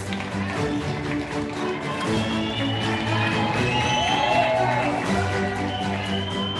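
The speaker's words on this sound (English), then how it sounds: "Another round of applause for Nonhlanhla, please." A graduation ceremony crowd applauds and cheers for a graduate, a continuous, busy clatter of clapping with scattered whoops, while tonal music-like sounds run underneath the whole time.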